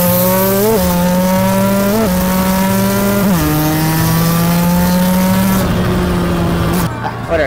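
A motorcycle with poorly gripping tyres is ridden at a Christmas rally, its engine loud and close, revving repeatedly and climbing through gear changes in long rising pulls before easing off at the end.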